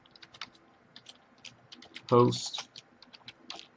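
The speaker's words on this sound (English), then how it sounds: "So we'll just type in config, enter our password for the appliance," Typing a command into an email security virtual appliance's console on a computer keyboard: a run of light, close key clicks, with a brief voice in the middle.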